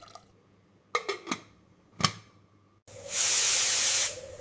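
A pressure cooker holding soybeans and red lentil dal with turmeric, salt and water gives a few sharp clicks and ticks, then a loud, steady burst of venting steam hiss lasting over a second before cutting off.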